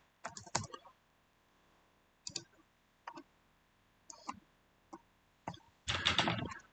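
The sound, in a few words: typing python.org on a computer keyboard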